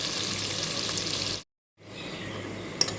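Onions fry with mustard seeds in a pan, making a close, steady sizzle that cuts out briefly and then resumes with a sharp pop, with no voices.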